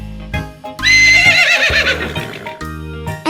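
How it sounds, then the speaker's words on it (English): A horse on a sunny farm gives a loud, close whinny that rises and trails off, set over cheerful music with a light beat and hoof-like clip-clops. "The horse."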